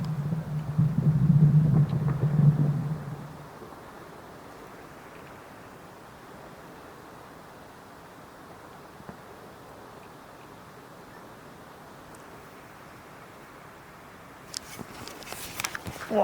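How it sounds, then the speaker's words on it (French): Europe's tallest waterfall, 423 m high, sends out a steady, broad roar that stays continuous throughout, with a low hum at the start and rough handling noise near the end. "c'est au pied de la plus grande cascade d'Europe qui fait 423 mètres de haut"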